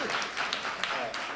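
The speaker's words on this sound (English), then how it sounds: "give you a hand clap" An audience claps briefly in a Brownsville talent show setting, a short burst of scattered hand claps close by, with no talking over it.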